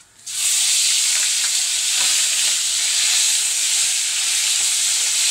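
Grated onion and nigella seeds hit hot oil in a pan for a tilapia curry, setting off a loud, steady sizzle that holds unbroken after a brief quiet start, with faint stirring clicks and no talk.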